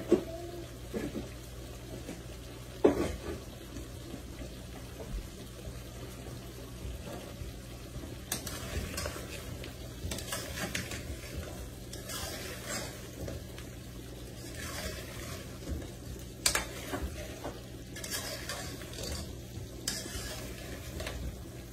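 Ground garam masala, cumin and coriander powder stirred and fried in a pan, giving a steady close sizzle with repeated scraping stirs and a few sharper clatters from the spoon.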